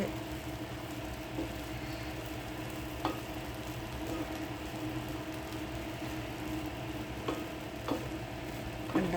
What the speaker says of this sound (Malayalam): കടു വറുത്ത് വഴറ്റുന്നതിൻ്റെ കൂട്ടത്തിൽ തന്നെ റവയും കൂടി ഇട്ട്